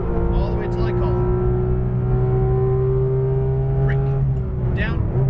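Porsche GT2 RS pulling hard on a race track, a loud steady engine drone with strong low harmonics rising slightly in pitch under an instructor's spoken coaching.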